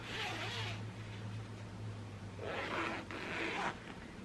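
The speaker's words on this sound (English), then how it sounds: "That zipper is really nice." A zipper on a soft pillow cover is pulled in several quick rasping strokes, close and quiet, with short pauses between pulls.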